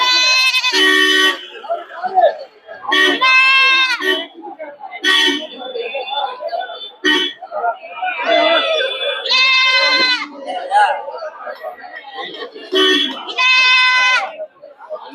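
Goats and sheep at a busy livestock market in Polur bleat repeatedly, several loud nearby calls rising over a constant crowd murmur and people talking, with occasional horns in the background.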